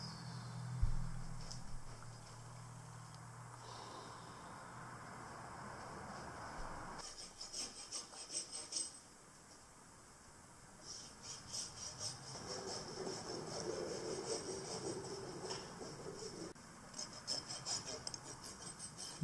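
A farrier's rasp works a horse's hoof, faint rhythmic scraping strokes in bursts with quiet pauses, set against low background noise.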